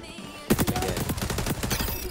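Rapid automatic gunfire from the XDefiant video game erupts after a brief quiet moment, with a dense burst of sharp shots fired in quick succession.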